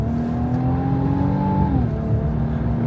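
Infiniti QX80 Autograph's 3.5-liter twin-turbo V6 engine revs steadily, a loud, continuous drone whose pitch holds and then drops, heard from inside the SUV with no talking.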